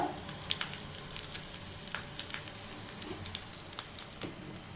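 Asafoetida powder sizzles in hot sesame oil while tempering for a mango pickle, a steady soft crackle with scattered pops and spatters, fairly close and alone.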